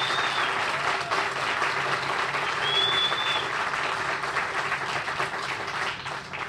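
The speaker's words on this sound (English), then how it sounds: "So round of applause for her and Dr." Audience applause at a biotech groundbreaking ceremony, a steady dense wash of many hands clapping throughout, fairly loud and sustained, with no talk over it.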